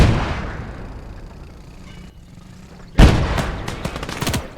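A single loud gun blast in the Gates of Hell World War II strategy game, preceded by a low fading rumble, followed by a decaying echo and a few smaller cracks.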